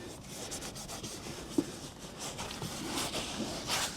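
A car's streaky door card being scrubbed, soft continuous rubbing strokes close up with one brief sharp knock midway and no talking.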